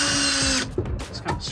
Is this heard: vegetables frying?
no